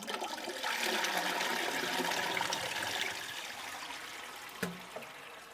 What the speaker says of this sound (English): for the part flush, we're going to press and hold until the flush is stopped